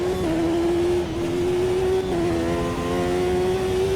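A Lola race car in Automobilista 2, in fifth of six gears at around 200 mph: a loud, constant high-pitched engine drone that shifts pitch slightly, running alone without voices.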